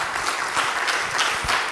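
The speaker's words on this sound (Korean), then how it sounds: "박수로 환영해 주십시오" An audience at a church theology forum applauds to welcome a seminary professor, a steady wash of many hands clapping at moderate volume, filling the room without talk.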